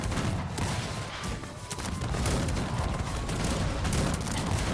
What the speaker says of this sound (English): But Baden has cannons and now he's starting to shoot.